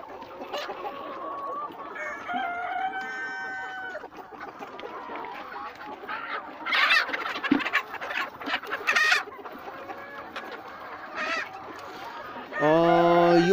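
Local chickens, a breeding flock of hens and a rooster, cluck and call in a yard, with overlapping bird sounds at moderate distance and a louder burst near the end.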